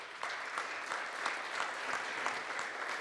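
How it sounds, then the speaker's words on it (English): An audience at a talk applauds speaker Simerjeet Singh, a soft, steady wash of many hands clapping with faint rhythmic accents, continuous and somewhat distant. "Let's give him a big round of applause"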